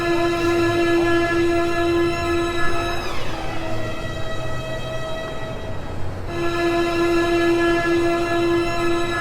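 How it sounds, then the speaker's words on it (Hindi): Train at Grand Central Terminal in New York City, a loud sustained horn or whistle tone with rumbling rail noise, briefly dipping in pitch midway then resuming steadily, with no voices. "ये बहुत ही बड़ी रेल टर्मिनल है।"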